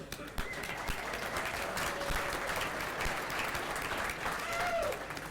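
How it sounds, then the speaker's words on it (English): A crowd applauding steadily for several seconds, dense clapping filling the room at an even level throughout. "Let's give him a big round of applause."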